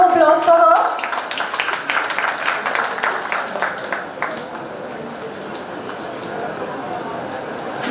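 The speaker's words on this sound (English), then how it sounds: "A huge round of applause for her." Applause from an audience at a college IT fest as a blogging club member is honored, starting dense and loud, then thinning into scattered claps that fade to a low murmur.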